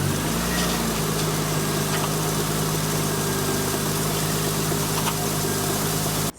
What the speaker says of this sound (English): we're going to start the car for maybe about 10 seconds or so.